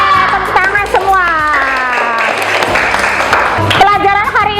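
A classroom of students claps and cheers loudly for a few seconds, the applause mixed with children's shouting and voices over a steady din.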